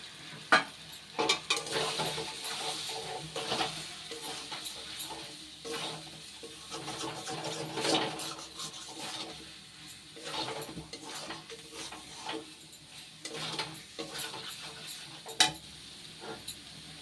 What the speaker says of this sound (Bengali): যে ডিমটা আমি বাটিতে নুন দিয়ে ফেটিয়ে রেখেছিলাম সেটা অল্প অল্প করে এর মধ্যে দেবো আর নাড়তে থাকবো